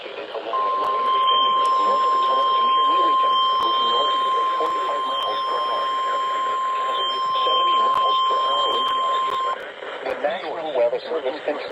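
Emergency Alert System warning tones broadcast over radio for a severe thunderstorm warning: a steady, piercing attention tone runs for about nine seconds over a broadcast voice, with data-burst chirps, before talk continues alone.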